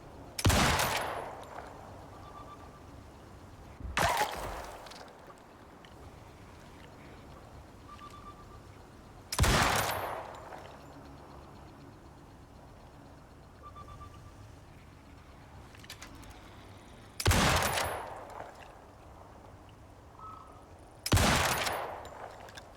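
Gunfire in the video game Icarus, heard as five separate loud bursts of rapid shots spread across the stretch, with quiet gaps and a few faint bird-like calls between them.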